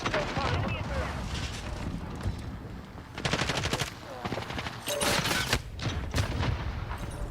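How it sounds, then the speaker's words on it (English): Dense video game battle with rapid automatic gunfire and repeated explosions, loud and continuous, bursts intensifying around the middle and end, with a voice talking faintly underneath. "There's so many explosions."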